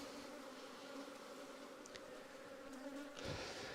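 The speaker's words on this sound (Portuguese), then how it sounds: "Bastante abelha, hein?" A faint, continuous hum comes from bees around a hive with a newly hatched queen, the steady drone broken only by a few brief flyby whines close to the microphone, and no voices.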